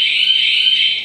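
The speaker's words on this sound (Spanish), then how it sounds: "Inmediatamente sonó la alarma y la deshabilité." A home alarm system sounds a steady, piercing electronic tone, loud and unbroken, with no other sound around it.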